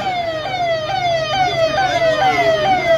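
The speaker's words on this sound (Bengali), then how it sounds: "অ্যাম্বুলেন্সটা চলে আসুন, চলে আসুন, চলে আসুন, একটু সবাই মিলে জায়গা করতে হয়।" An ambulance siren wails loudly and up close as it pushes through a crowd, repeating rapid falling sweeps about twice a second.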